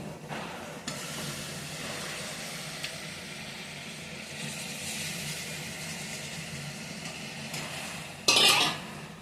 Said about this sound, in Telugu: ఇప్పుడు మటన్ కూడా వేసేసుకుంటానండి.